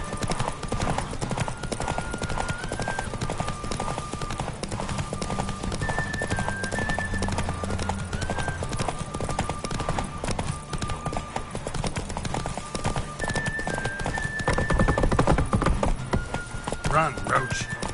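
A horse gallops in The Witcher 3 video game, with rapid rhythmic hoofbeats running steadily throughout, a neigh, and game music and voices talking over them.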